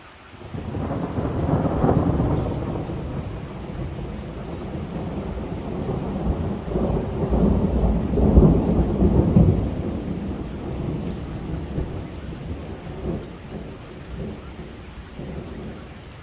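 Thunderstorm over Grenoble in the Alps in August, with rolling thunder swelling and fading across the span over steady heavy rain, loud and close, no voices.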